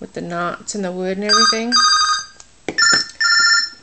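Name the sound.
phone text message alert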